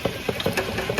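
A ratchet turns a swivel socket on an extension against a bolt on a 2010-2022 Lexus RX350 during rear wheel bearing work, giving a quick series of light clicking strokes at a close, moderate level.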